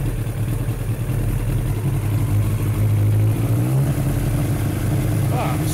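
A 1998 Yamaha R1 motorcycle engine with carburetors runs steadily at a loud, close idle, its humming drone shifting slightly in pitch as it settles, while brake cleaner is drawn into the intake.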